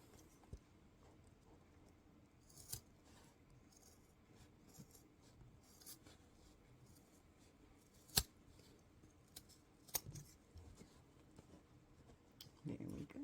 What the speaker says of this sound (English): I'm going to go ahead and I'm going to trim that off.